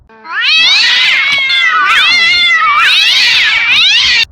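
A house cat yowls and caterwauls loudly and close up, with long, wavering, pitch-bending cries that run almost continuously for several seconds.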